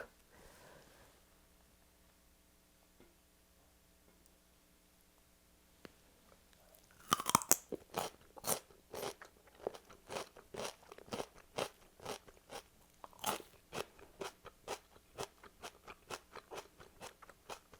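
Close-miked crunching of raw celery being eaten, a quiet stretch followed by sharp, watery snapping bites and a long run of repeated crisp chews.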